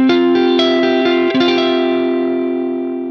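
An electric guitar with its high end boosted by EQ strums a bright chord, followed by a few quick picked notes that ring on and slowly decay, carrying a touch of effects and reverb.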